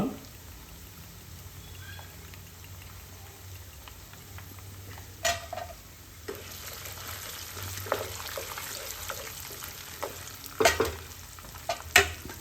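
A spoon stirs hot oil tempering with spices in a pan, with a soft steady sizzle underneath and occasional louder scrapes and knocks against the pan. No talking.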